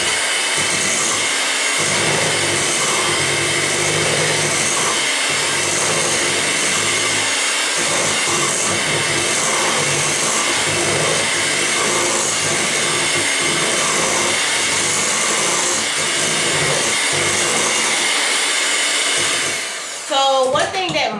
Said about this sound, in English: Add that sour cream in, and we're gonna go mix,